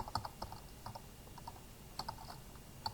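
Keystrokes on a computer keyboard while entering Python code, close and clear, in irregular bursts of quick clicks with short pauses and no talking.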